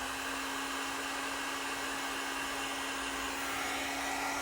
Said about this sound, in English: come back with a heat source and shrink them down